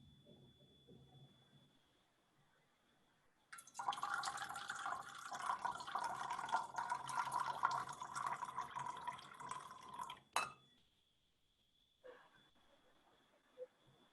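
Water trickles and splashes steadily for about seven seconds at a faint level, standing alone against a quiet background with a thin tone beneath.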